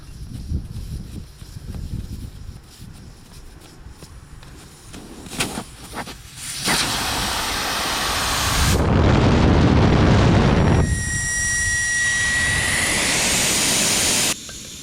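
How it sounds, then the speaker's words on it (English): Air rushes out of a car tire when the valve stem core is pulled out on a tire changer. After a few handling clicks, a loud, steady hiss sets in and runs for several seconds. "let's get that valve stem core out of there"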